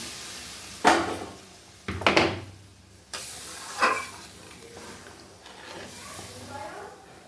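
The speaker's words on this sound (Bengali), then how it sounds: "এবারে গরম জল দিয়ে দেবো।" Hot water hits a pan of stir-fried spiced vegetables in several loud hissing bursts that flare and fade, followed by a softer bubbling sizzle, with a voice speaking faintly between pours.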